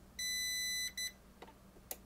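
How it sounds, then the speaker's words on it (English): A CyberPower CP1500PFCLCD UPS powering on gives two electronic beeps, a long tone then a short one, close and clear, followed by faint button clicks. "I hold it just long enough to hear the two beeps."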